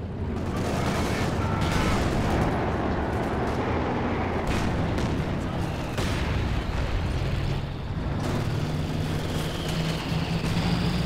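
Battle in the video game Company of Heroes 2 rages loud and dense, with mortar blasts, rattling gunfire and rumbling explosions overlapping continuously without a break.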